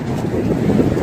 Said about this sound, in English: The wind is blowing pretty hard out here.